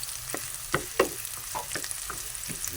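Onion and garlic sizzle softly in a pan, a steady low crackle with occasional scraping stirs and clicks of a utensil.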